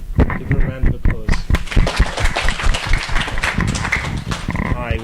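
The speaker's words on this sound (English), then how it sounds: "Give her a round of applause." A studio audience claps in a dense, steady burst of applause to welcome sprinter Wilma Rudolph, with voices mixed in under the clapping.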